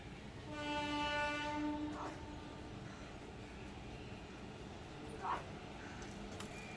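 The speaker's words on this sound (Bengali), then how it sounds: "এই যে ট্রেনটি দেখতে পাচ্ছেন এটি হচ্ছে ক্রিয়াযোগ এক্সপ্রেস" The Kriya Yoga Express train sounds a long horn blast from a moderate distance near Howrah, followed by the low continuous rumble of rolling wagons, with a couple of brief sharp clanks.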